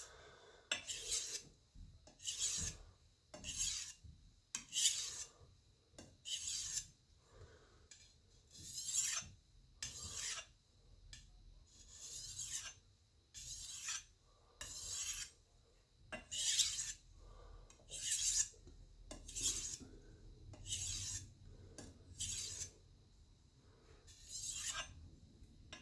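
Rhythmic rasping strokes of a chef's knife blade being ground and sharpened, repeated in short bursts with brief pauses between them, close and fairly quiet with no talking.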